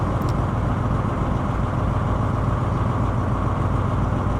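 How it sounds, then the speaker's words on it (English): Steady low diesel rumble of the MTU engines on a Class 170 Turbostar train, a constant loud drone heard close up with no talk over it. "the MTU engines do sound excellent"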